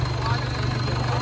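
A tractor engine idles steadily at close range after a technical fault during a harrow competition in Jind, a constant low rumble with a faint high whine running throughout, with no pauses or changes.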